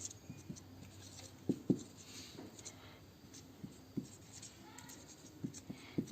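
A pen scratches and taps across paper while writing out a polynomial, producing soft, irregular strokes and small clicks, close and faint in a quiet room.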